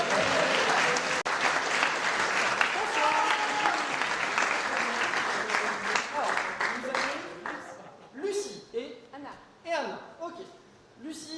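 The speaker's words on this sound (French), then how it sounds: "On peut l'applaudir aussi, hein?" An audience at a live stage show applauds loudly and steadily for a volunteer, the clapping fading over several seconds as a performer begins talking over the tail.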